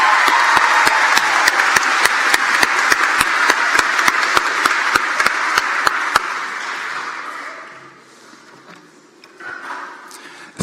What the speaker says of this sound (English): Let's give another round of applause to these wonderful students.